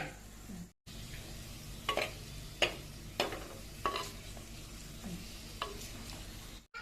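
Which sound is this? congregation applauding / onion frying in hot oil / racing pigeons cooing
onion frying in hot oil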